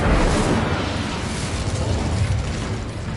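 An Incendio fire spell is cast in Hogwarts Legacy on PS5, a loud, roaring fiery burst that fills the moment with dense rumbling blast noise and no voice.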